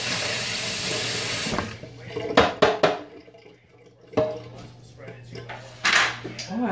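A sink tap runs over a Tupperware stack cooker being rinsed, with a loud gush of water at first, then scattered clunks and knocks of plastic in the sink and a brief splash.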